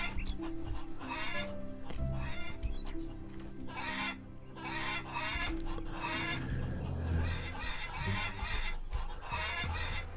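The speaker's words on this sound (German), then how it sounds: "Hier haben wir 20 Hühner drin." Chickens cluck in a henhouse in the farming game Farmers Dynasty, a steady overlapping chatter of many birds mixed with other farm-animal calls and constant background ambience, with no talking.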